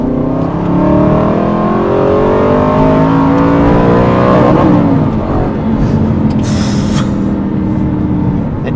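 Porsche 992 GT3 Touring flat-six wound out hard in second gear, a loud, rising engine note climbing steadily toward the top of the rev range, easing briefly, then pulling on with a sustained high wail over road and wind roar.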